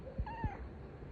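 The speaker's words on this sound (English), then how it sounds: "So you're a rescue cat." A rescue cat, found after a hurricane, lets out one short, faint meow, a rising then falling cry heard up close against a quiet background.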